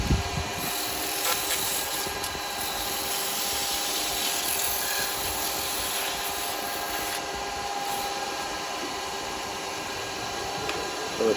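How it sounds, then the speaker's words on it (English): Sandpaper pressed against a wood-turned pot spinning on a lathe, a continuous even rubbing hiss over the steady hum of the machine, with a dust extractor running, moderately loud and unbroken for the whole stretch. "Give it a sandpaper on that."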